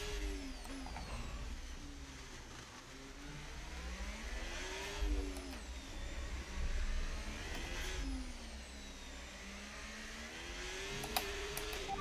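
A Formula 1 car engine in the F1 25 racing game screams through qualifying laps at Monaco, its pitch rising and falling with each gear change and corner, steady and moderately faint throughout.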